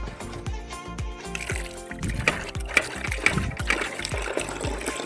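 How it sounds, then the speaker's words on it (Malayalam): Water poured over sardines being washed for pickle, splashing and trickling in uneven bursts with clinks of a vessel, close and fairly loud. "നന്നായിട്ടൊന്ന് വെള്ളം ഒഴിച്ച് നമുക്കൊന്ന് കഴുകാം."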